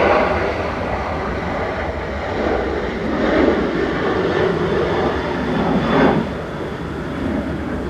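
A Ryanair jet departing runway 05 left at Manchester Airport, a loud steady engine roar with broadband rushing that swells slightly and stays strong throughout.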